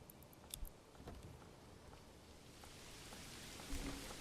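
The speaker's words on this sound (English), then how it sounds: "Look at that rain." Steady rain falls in the medieval city-builder game Manor Lords, a soft, even wash of patter holding through the whole stretch with a few brighter ticks near the start.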